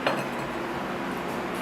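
A knife and fork work through a grilled ribeye steak, with one brief metallic clink at the start followed by quiet, faint scraping against a plate.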